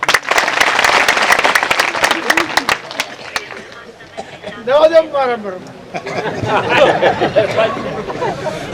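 Audience at a satsang in Junagadh clapping, a burst of dense applause that fades, followed by a voice on the microphone and crowd chatter.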